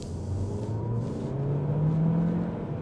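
A Jaecoo J7 SUV with a turbocharged engine accelerates onto a main road, heard from inside the cabin as a low, steady engine drone rising gradually in pitch, with road rumble underneath and no talking.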